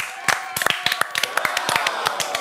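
A small studio audience claps for a guest on a French entertainment show, with sharp, distinct individual hand claps close by over a faint held tone and light talking underneath.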